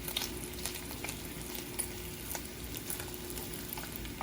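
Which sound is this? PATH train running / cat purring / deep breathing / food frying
food frying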